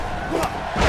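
A wrestling arena crowd in Columbus cheers and yells during a live match, a dense roar of many voices that swells near the end.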